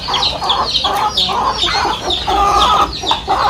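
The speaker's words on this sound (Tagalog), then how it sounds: "Start na kumain yung mga manok." Chickens pecking at their feed on a farm, with a near, busy chorus of clucks and short cackles repeating in quick irregular bursts over a faint background hum.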